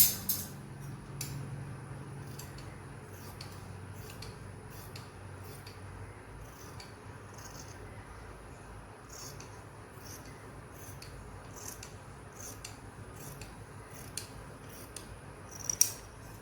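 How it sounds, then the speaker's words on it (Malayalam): Scissors snip through umbrella fabric being cut into a skirt, giving a series of faint, crisp clicks and slicing sounds in a quiet room with no talking. "ഇതേ അളവിൽ നമുക്ക് ഒന്ന് കട്ട് ചെയ്തെടുക്കാം"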